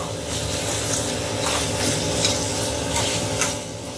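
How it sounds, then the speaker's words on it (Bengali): Mutton pieces being sautéed and stirred with spices in a pan for a korma, giving a steady close scraping, rubbing sizzle with soft stirring strokes throughout, no voices. "ভালো করে মশলার সাথে কষিয়ে নেব।"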